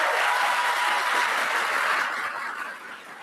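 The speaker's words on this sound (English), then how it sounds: "he stood up and clapped for that" Crowd applause at a political rally in North Carolina, a broad sustained wash of clapping and cheering that gradually fades toward the end.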